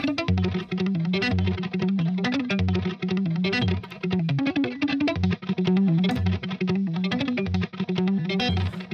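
A distorted electric guitar with multiband compression plays a steady, driving riff with a tight, even level and thick low end, loud and continuous throughout.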